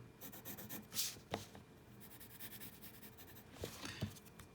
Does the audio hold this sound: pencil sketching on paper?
yes